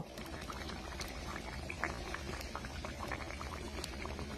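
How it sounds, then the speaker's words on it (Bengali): Boal fish curry broth boiling in a pot, a dense, bubbling simmer with fine popping bursts, steady and close throughout. "ঝোলটা ফুটে উঠেছে, ধনেপাতা দিয়ে দিলাম।"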